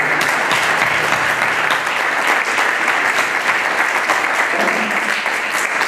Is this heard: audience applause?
yes